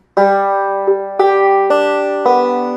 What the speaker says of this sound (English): To do that, you're going to play a bunch of open strings.